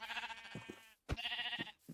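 Sheep bleat repeatedly in a blocky sandbox building game, two wavering calls split by a brief gap and set against a steady game backdrop, close and clear with no talk.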